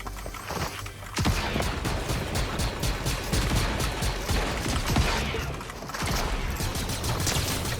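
Dense, rapid bursts of video game gunfire and crashing impacts fill the scene, a continuous loud barrage with brief pauses, with no speech.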